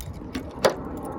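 Keys jangle and clink while a lock is being opened on a welding rig tank holder, with a couple of sharp metallic taps over a soft background hum.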